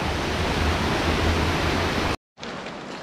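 Flowing water pours loudly and continuously during a bath, a dense broadband rush that cuts out abruptly for a moment before resuming.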